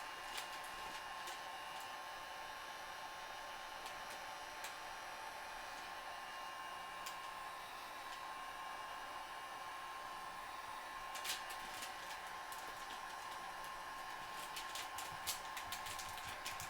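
Heat gun blowing steadily to shrink heat-shrink tubing over a 3D printed mold, heard as a faint, constant whirring hiss with a few small clicks and taps, with no talking.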